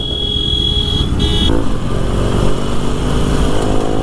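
A Harley-Davidson 1200 Custom motorcycle runs close by with a loud, steady engine drone while riding, a brief higher tone sounding early on before the rumble settles.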